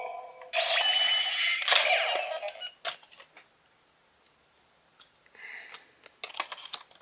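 Electronic Gosei Morpher toy plays a bright, buzzy synthesized sound effect for about two seconds, then quieter clicks and handling noise follow.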